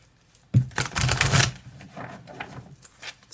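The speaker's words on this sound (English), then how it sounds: "Alright, I'm going to do one more shuffle." A close, dry flurry of tarot cards being shuffled in one burst, followed by softer scattered rustles and taps.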